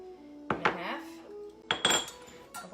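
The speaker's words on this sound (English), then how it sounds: "just stir that until the sugar is dissolved" A spoon stirs sugar into a cup of water, giving two short bursts of close metallic clinks and scrapes against the cup, separated by a brief quiet gap.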